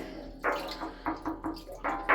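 Water drains from a well pressure tank with a failed bladder, giving irregular gurgling, splashing bursts at moderate volume over a low steady hum, with no talking.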